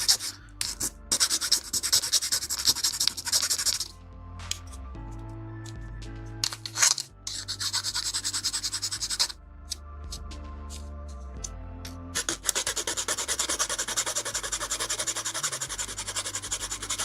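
A plastic part from a 1/100 Hasegawa model kit is sanded by hand, giving close, loud, scratchy rubbing strokes in quick repeated bursts separated by short pauses.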